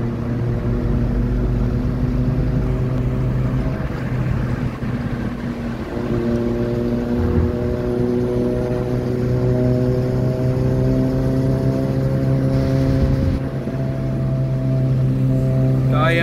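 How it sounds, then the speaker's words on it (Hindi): A superbike with an aftermarket exhaust rumbles with a deep, steady engine drone and shifting harmonic tones, heard close and loud for a long stretch, with wind noise. "क्या यार इसकी आवाज कितनी जबरदस्त है भाई, जो एग्जॉस्ट लगाए ना भाई"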